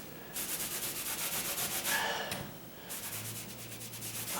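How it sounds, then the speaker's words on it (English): A sponge wipes paint residue off a painted condo wall in soft, close rubbing strokes that come in a steady rhythm, with a brief lull partway through. "I'm just taking my sponge around it."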